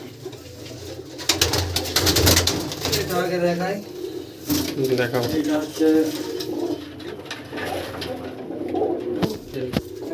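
Punjabi Malbai female tournament pigeons coo softly in a loft, low repeated throaty calls running under close talking voices.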